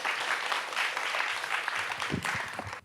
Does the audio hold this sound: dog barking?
no